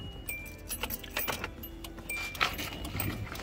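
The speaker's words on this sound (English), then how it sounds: "Okay, I'll switch on the ignition" A car key jangles and turns in the ignition of a Hyundai Santa Fe with a vehicle speed sensor fault. Small metallic clinks and rattles come close and fairly quiet over a low background hum.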